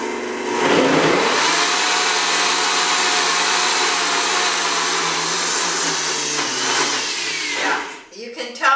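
An electric mixer beats thick gluten-free bread dough with a loud, steady motor whine that strains and shifts pitch slightly as it labors, before cutting off near the end with a few clattering knocks.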